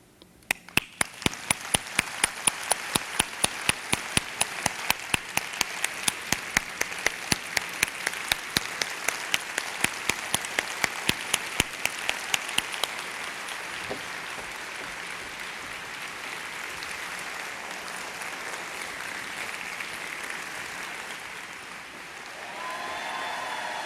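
An audience claps steadily at a healthcare talk, with rhythmic sharp claps near the front for the first half before the applause thins into a softer, sustained patter.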